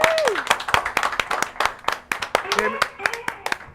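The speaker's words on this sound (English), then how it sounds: "Let's have a round of applause for Jamie Neary" An audience claps in quick, uneven bursts of applause that run throughout, while voices talk over the clapping.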